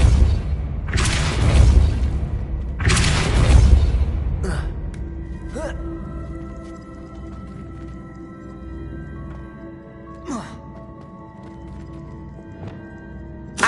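The Depulso force spell in Hogwarts Legacy strikes with two heavy, crashing impacts in quick succession. Fainter clicks and a sustained tonal hum from the game follow, and a few sharp ticks are scattered through the quieter tail.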